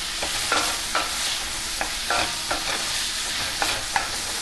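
Vegetables for a vegetable-patch frittata fry in a pan under a constant sizzle, while a utensil stirs them in a run of quick, close clacks and scrapes.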